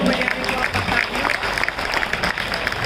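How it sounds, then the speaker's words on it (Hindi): An audience at a revolutionary poetry gathering for Veer Savarkar's birthday claps loudly and steadily in a dense, continuous burst of applause, with crowd noise mixed in. "मैं चाहता हूँ एक बार जोरदार तालियां बजाकर फिर उसको आदेशित करें।"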